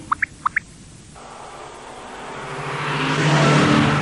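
A car drives in a tense film scene, its engine noise swelling steadily louder and closer over a few seconds after a couple of brief high chirps at the start.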